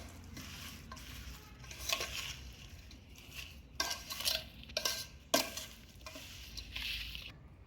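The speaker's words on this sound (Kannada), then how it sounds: "ಎಣ್ಣೆ ಹಾಕಿ ಮತ್ತೆ ಇದನ್ನು ಕಲಸಿ ರೆಡಿ ಮಾಡ್ಕೊತಾ ಇದ್ದೀನಿ." A spoon clatters and scrapes against a container while mango pickle pieces are stirred with oil, giving irregular knocks and clinks in short bursts, close and with no talking.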